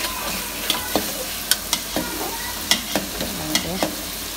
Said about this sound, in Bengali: ভালোভাবে সে মাছটা কষাচ্ছে